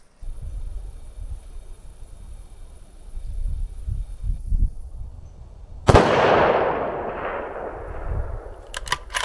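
A single rifle shot fired at long range through a muzzle brake: an abrupt, loud blast after a few seconds of quiet outdoor rustle, followed by a long rolling echo that fades slowly, then faint clicks of handling.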